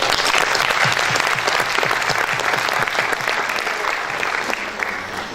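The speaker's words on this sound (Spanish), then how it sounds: "un aplauso fuerte" Loud, sustained applause from a large audience at a public health policy forum, dense clapping filling the whole stretch and easing slightly toward the end.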